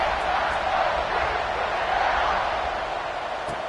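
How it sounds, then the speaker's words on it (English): Stadium crowd in the Madden football video game, a steady broad roar and murmur that stays loud and even throughout, with no single cheer standing out. "this crowd is buzzing after that last score"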